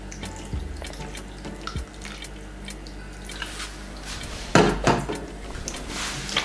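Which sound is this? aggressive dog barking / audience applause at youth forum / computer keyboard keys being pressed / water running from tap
water running from tap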